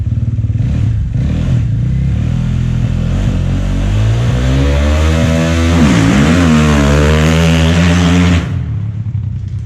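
A motocross motorcycle engine revs loudly at a practice start in an indoor facility, rising in pitch then dipping and surging again before cutting off near the end, close and alone.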